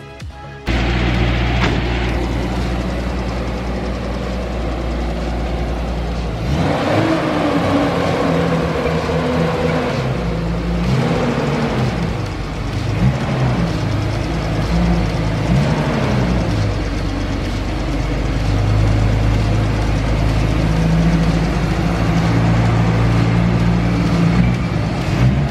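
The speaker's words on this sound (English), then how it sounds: "we need to bring the Datsun into the garage" Datsun 280ZX car engine running steadily as the car drives into a garage, a loud continuous low rumble with slight shifts in revs throughout and no talking.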